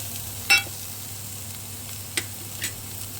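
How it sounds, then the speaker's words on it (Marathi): Masala with tomato and coriander sizzles in a pan as a soft, steady hiss, broken by a few brief clinks of a utensil. "टोमॅटो शिजेपर्यंत याला शिजत ठेवा"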